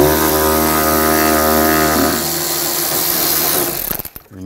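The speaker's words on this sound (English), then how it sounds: "I'm going to take that bolt off. Using a 7mm socket." A power tool, likely a cordless driver spinning a 7mm socket, whirs steadily and loudly to remove a bumper bolt on a 2013-2019 Ford Escape, its pitch shifting midway before it winds down and stops near the end.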